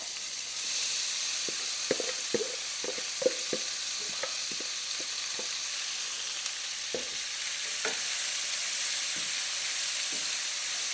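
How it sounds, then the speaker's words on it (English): Carrots, onions and garlic sauté in rendered rabbit fat with a continuous hissing sizzle, broken by scattered close clinks and scrapes of stirring utensils against the pan. "I'm going to saute this over the loud steam for about 5 minutes again"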